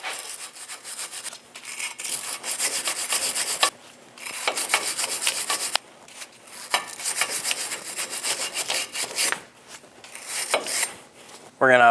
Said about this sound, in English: Using a wire brush, we're going to go around and we're going to clean our hub.